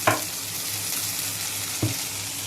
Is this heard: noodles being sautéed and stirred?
yes